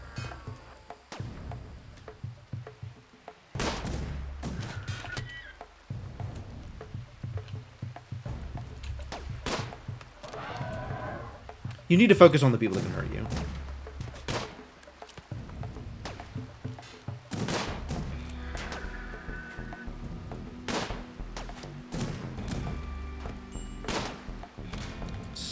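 Scattered gunfire from a RimWorld raid on colony turrets: sharp isolated shots and short bursts recur throughout over game ambience, with one louder flurry partway through and a brief spoken line.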